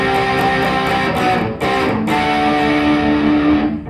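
Distorted electric guitar plays double stops with a wobbling vibrato, a hard rock lick in a lesson setting, loud and close with a few brief gaps between phrases and a long sustained final note.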